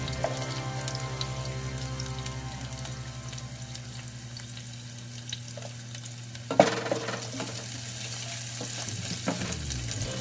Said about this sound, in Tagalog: Sunod ko na yung aking garlic.